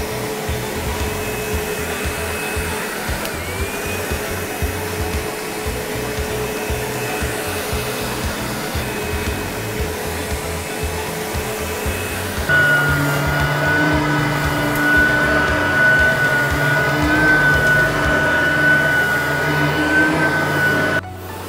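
A vacuum cleaner runs continuously with a steady motor drone and airy whoosh. Partway through, the pitch jumps and the sound grows louder and brighter, then it keeps droning until the end without a break.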